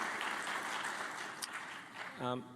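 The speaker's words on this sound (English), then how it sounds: "Big round of applause" Applause from a convocation ceremony audience fills the room, a dense patter of clapping that fades as a voice briefly speaks near the end.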